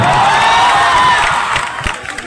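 A seminar audience claps and cheers together in a dense, loud burst of applause with excited voices, which thins out toward the end.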